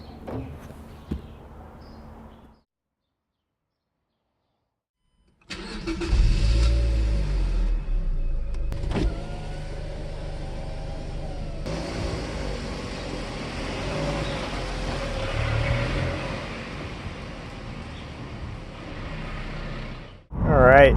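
A 2007 NC Mazda Miata with aftermarket suspension starts up after a few quiet seconds, then its engine settles into a steady hum while driving, loud and close, with a brief louder surge at the end.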